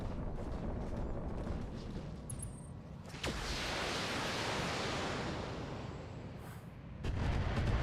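Heavy weapon fire booms from a mech in the BattleTech BTA mod video game, a loud sharp blast followed by a sustained roaring wash of noise and another impact near the end.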